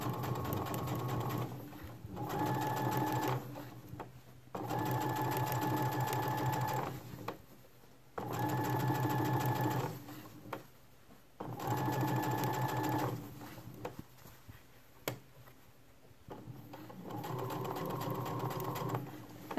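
Domestic sewing machine stitching a seam on a pair of shorts, running in several steady bursts of a few seconds each with short pauses between, close and clear with no talking.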